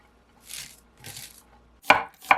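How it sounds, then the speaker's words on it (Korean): An onion is sliced thinly with a knife: two soft slicing strokes are followed by two sharp board knocks, close and distinct in an otherwise quiet kitchen. "양파 1개는 가늘게 슬라이스해서 각각의 양배추에 넣으세요"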